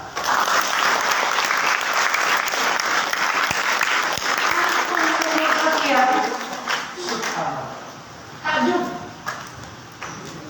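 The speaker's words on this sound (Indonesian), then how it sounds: "Tepuk tangan." An audience claps together at a school thanksgiving celebration, a dense burst of applause that fades into scattered claps, with talk in the room around it.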